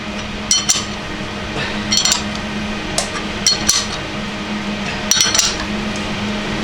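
Sharp metallic clinks and taps of a spanner working on an engine injector of a Vauxhall Vivaro 2.0, scattered in small clusters over a steady background hum, fairly close and moderately loud.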